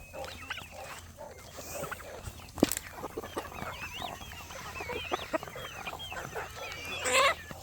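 Chickens on a Southern homestead cluck and chatter continuously as a busy, overlapping flock, close and moderately loud, with a sharp knock partway through and a brief louder squawk near the end.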